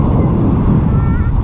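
Strong wind at a seaside resort in Lobo, Batangas buffets the microphone in a loud, continuous low rumble, with a faint wash of water beneath.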